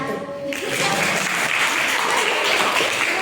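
Students in a classroom clap for group 1 after their presentation. A short voice comes first, then dense, steady applause rises and holds close and loud.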